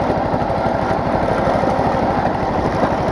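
Brush mower engine running at steady throttle while pushed over gravel and sand, a loud close buzzing drone with rapid chugging pulses, continuous throughout.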